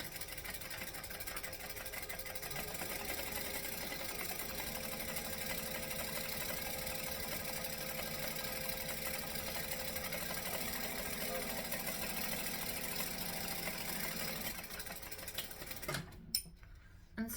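A sewing machine back stitches a thin vinyl bag handle in a long, steady whir that holds for most of the time and then cuts out into a few faint handling clicks at the end.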